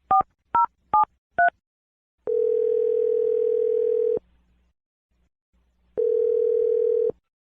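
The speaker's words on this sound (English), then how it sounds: "Let's dial his phone number." Four quick touch-tone keypad beeps dial a phone number, then two long, steady ringback tones sound with a silent gap between them, crisp and close with no one speaking.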